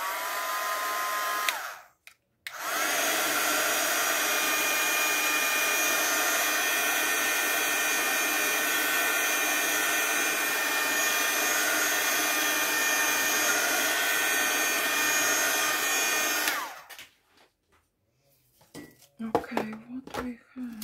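A hair dryer blows loud and steady for about fifteen seconds over a crafted double-page scrapbook spread, then switches off, followed by light clinks and handling of craft items.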